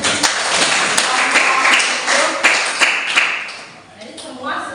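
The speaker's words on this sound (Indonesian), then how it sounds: "jadi tepuk tangan dulu buat temannya" Classmates in a classroom clap for a fellow student's answer, a brief burst of scattered hand claps with a teacher's voice over it, fading toward the end.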